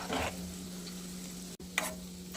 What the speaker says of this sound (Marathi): मस्त तळून घ्यायचं.